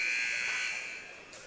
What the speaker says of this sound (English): shot drops as the buzzer sounds